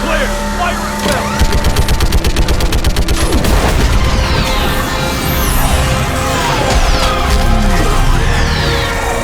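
Dense gunfire fills a battle in Mass Effect 3, with rapid automatic bursts, booms and engine-like roar sustained loudly throughout, alongside shouted voices.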